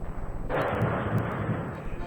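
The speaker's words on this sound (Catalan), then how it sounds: "Una mica de sorollets d'explosions pel fondo." Distant explosions from a 1934 historical recording of the Asturias revolution, a sustained rumbling boom with broadband noise that swells and continues steadily, heard as a muffled background roar.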